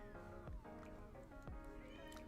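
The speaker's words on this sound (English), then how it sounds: "Cat is still meowing in the background." A cat meows in the background, with a couple of drawn-out, sliding cries against steady low background noise and faint voices.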